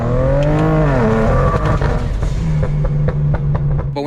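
A BMW race car engine at full throttle, loud and sustained, its pitch climbing through a rising pull and then holding a steady harsh drone, with brief cuts and crackles near the end, no voices.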